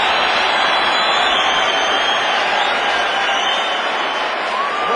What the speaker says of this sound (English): Crowd likes the knockdown, though.